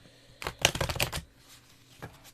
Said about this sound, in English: 2 more shuffles to make sure everything is